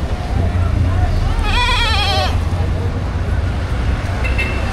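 A goat bleats once in a wavering, quavering call at a livestock market in Padre Garcia, Batangas, heard over a steady low rumble of nearby traffic.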